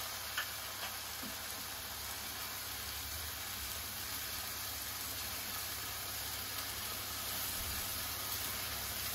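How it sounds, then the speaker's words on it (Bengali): Onion and spice masala for morog polao sizzles steadily in a pan while being stir-fried, a continuous close hiss with faint scraping ticks throughout and no voices. "এখন আমি আবারও এটা কষাবো"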